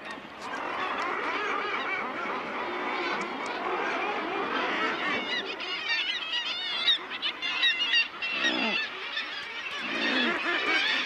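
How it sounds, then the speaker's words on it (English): An Arctic seabird colony on a sea cliff keeps up a dense, continuous din of overlapping honking and squawking calls, loud and close, with no talking. "birds are busy plying back and forth to the sea, returning with cod for their young"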